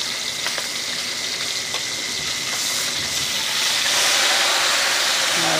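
Boneless milkfish frying in hot oil, a steady dense sizzle that swells louder toward the end, close up with no talk.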